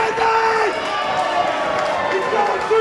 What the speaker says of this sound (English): the crowd are loving Christian Ocello here tonight in Canley Vale